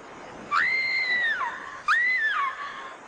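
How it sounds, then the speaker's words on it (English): A woman's distant scream, used as a TV drama sound effect, comes as two long wailing cries in quick succession, clear and fairly loud against a quiet background. "Did you hear that? Sounded like Charity screaming"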